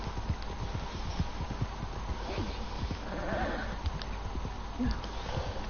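Horses in the Red Dead Redemption 2 video game whinny and clop their hooves repeatedly at close range, with faint background sound behind the rhythmic steps.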